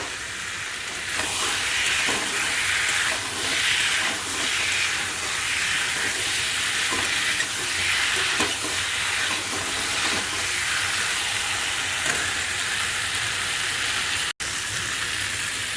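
An egg added to an egg and potato curry spits and hisses in the pan as it is stirred, a loud, steady sizzle with recurring stirring pulses and one abrupt click near the end.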